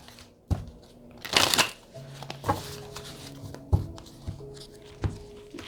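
Goddess Power Oracle cards being shuffled by hand, close papery riffles and slaps with one dense burst of rustling and several sharp taps amid soft handling noise.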